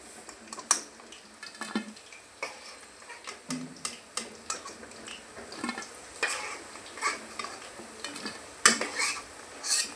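Chicken pakoras fry in a pan, a soft sizzle under frequent clinks and scrapes of a utensil stirring and lifting the pieces, close and moderately loud.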